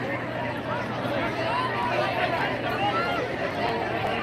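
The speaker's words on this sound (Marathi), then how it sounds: "खूपच गर्दी मित्रांनो इकडे" A dense crowd murmurs and chatters at a Pradeep Mishra Shiv Puran katha in Chalisgaon, a steady, close, unbroken hubbub of many overlapping voices with no single speaker standing out.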